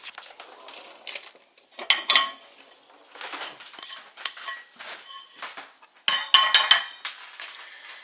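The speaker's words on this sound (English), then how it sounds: "Just get a plate." Dishes and cutlery clatter and clink as a plate is fetched in a home kitchen while making Scotch pancakes, several close irregular bursts of ceramic and metal knocks with short pauses between.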